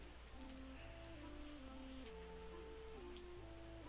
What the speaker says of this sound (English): there is clearly a lot of rain out there